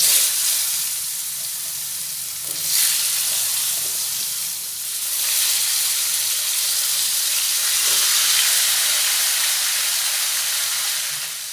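Potatoes go into hot oil seasoned with a little turmeric for Bengali mutton kosha, giving a loud, dense hiss of frying that swells and settles in waves, with no talk.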